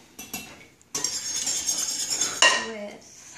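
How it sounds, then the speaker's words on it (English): A utensil clinks against a bowl while two eggs are whisked together, opening with a few scattered taps and then becoming a steady, brisk run of scraping and clicking that ends in a sharper clatter. "I'm gonna start with 2 eggs. And then whisk these together"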